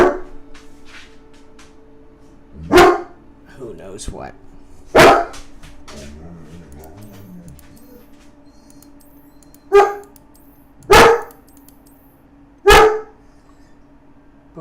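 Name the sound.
dog barking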